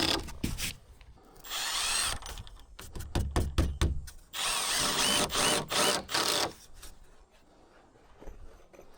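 Power drill driving screws through foam fender washers during a workshop sewage pump install, with bursts of whirring drill runs and rapid stuttering pulses near the mic, separated by short quiet gaps.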